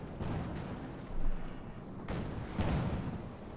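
A Katyusha-style rocket artillery barrage in the strategy game Company of Heroes 2 rumbles along in a series of low booms and whooshing launches, moderately loud and somewhat distant.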